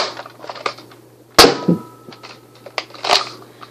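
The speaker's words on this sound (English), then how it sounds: "So that's it for shooting all my Nerf guns." A Nerf blaster fires a few sharp, close snapping shots spaced over a few seconds, each a crisp pop followed by a quick clatter, with no talking.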